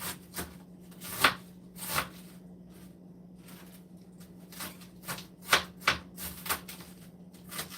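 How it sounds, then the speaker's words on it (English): A knife chopping cabbage on a cutting board in a home kitchen, quick irregular taps and crisp slices in small bursts, fairly close but soft, over a low steady hum. "So I'm just going to quickly cut it up."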